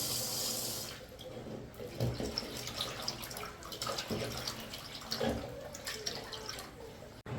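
Tap water runs steadily into a sink as raw beef is rinsed by hand, with irregular splashing and sloshing as the meat is turned, near and continuous, with no talk.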